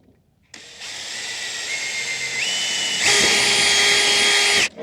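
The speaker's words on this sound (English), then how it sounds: "now it's all drilled out to mount to the boom and match the existing holes" A power drill whines loudly and steadily, its pitch rising as the bit bites into an antenna boom while drilling bolt holes, then stopping abruptly.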